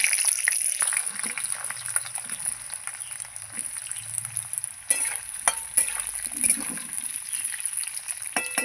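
Potatoes sizzling in hot tempered oil, a steady close frying hiss with occasional sharper crackles and clinks of stirring, no talk.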